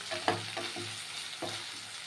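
Crushed ginger fries in a little oil with a soft, low sizzle. A few quiet scrapes of stirring come early and near the end, and the whole thing is faint with nobody talking.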